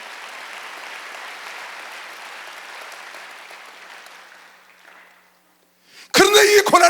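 Applause from a church congregation during a Wednesday service, a broad wash of clapping that fades to silence, followed by someone speaking loudly.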